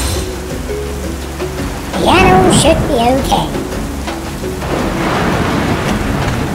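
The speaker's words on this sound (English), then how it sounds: "Uh-oh, it looks like a storm." A thunderstorm rumbles over steady rain in a toy-train adventure story, a broad roar that swells loud and then continues under a voice and other speech.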